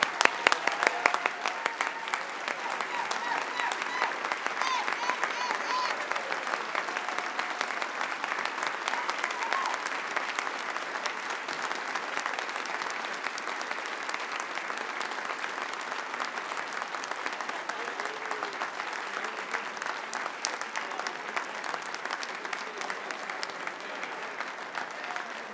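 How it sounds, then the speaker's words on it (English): Sustained audience applause at a regional Emmy awards ceremony, a steady, dense clapping from a large crowd that continues evenly without a break. "now is the time for you to stand and applaud"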